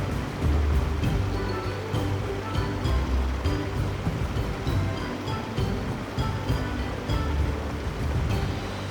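Water in a mountain stream in Himachal's Tirthan Valley splashes and rushes against stones, a continuous broadband wash with small irregular bursts, fairly close and steady, with no talking.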